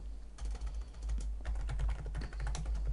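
Rapid clicking keystrokes on a computer keyboard, close and fairly even, a dense run of taps with a short pause near the start, no speech heard.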